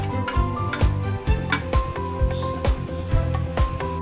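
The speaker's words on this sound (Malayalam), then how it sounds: "എടുത്തു വെച്ച 4 ഗ്രാമ്പ്, 2 ഏലക്ക ഇതൊന്ന് ചൂടാവട്ടെ. നന്നായിട്ട് ഒന്ന് ഇളക്കി കൊടുക്കാം." Four cloves and two cardamom pods heat in a pan for vegetable pulao while a utensil stirs them, giving regular metallic clinks and taps against the pan about twice a second, close and fairly quiet.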